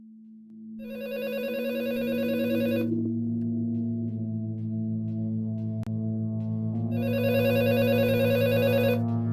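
A telephone rings in two loud bursts of electronic trilling, one at the start and one near the end, with a steady low hum running underneath throughout.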